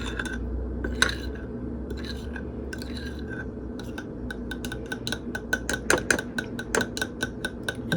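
Spoon clinking and scraping in a bowl as a quinoa salad with garlic is stirred, a run of light, quick ticks and taps that grows busier toward the end, close up with no talk.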